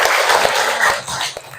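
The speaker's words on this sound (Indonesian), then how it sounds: "Beri tepukan yang gemuruh buat." A classroom of students claps together in a brief burst of applause, dense and close, lasting under two seconds.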